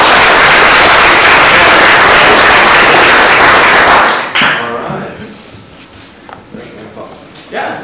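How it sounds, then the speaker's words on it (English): Applause from an audience at a web developers' talk on GitHub Actions in Zurich, loud dense clapping for about four seconds that then breaks off into scattered claps and quieter room noise. "please give a warm round of applause to Johnny."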